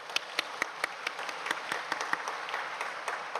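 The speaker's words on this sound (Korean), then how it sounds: "우리 한번 축복의 박수 보내었으면 좋겠습니다" Church congregation giving applause after a sermon, steady moderate clapping from many hands with a few sharper individual claps standing out, somewhat distant.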